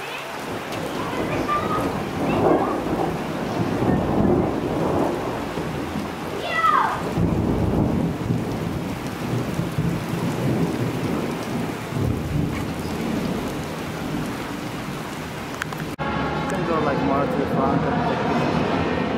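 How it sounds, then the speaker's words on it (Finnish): A thunderstorm with steady rain fills the scene, low thunder rumbling through a constant downpour while people talk over it. "Ja oho, ukkostaa."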